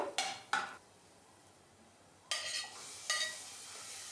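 Tomatoes stirred with softened onions in a pan for Marathi-style bhindi sabji, heard as a few brief scraping clatters of a spatula against the pan, separated by near-silent gaps, with no talk.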